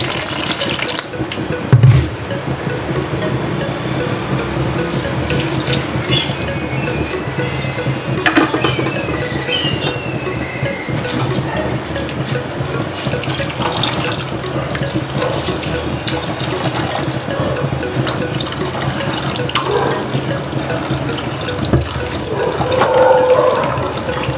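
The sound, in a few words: water added to soaked chickpeas and rice for pulao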